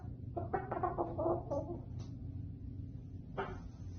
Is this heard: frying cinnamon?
no